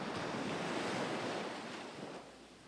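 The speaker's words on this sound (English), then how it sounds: "The roaring sounds of the sea's surf, the waves crashing over each other, calms your mind" Sea surf rolling and crashing onshore, a steady roaring wash of waves with wind noise, continuous and moderately faint, easing slightly toward the end.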